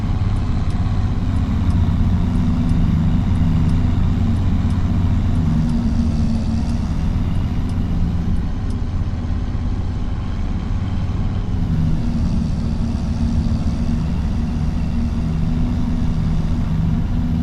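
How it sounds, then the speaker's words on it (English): Steady, loud drone of a car engine cruising on an open road in a farm simulator game, a continuous low rumble with a constant pitch and no talking. "I am taking you along on the ride so you can enjoy the engine sound."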